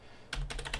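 Keystrokes on a computer keyboard as a URL is typed, a quick cluster of close, fairly loud clicks starting after a short quiet moment and tapping in an uneven rhythm with no talking.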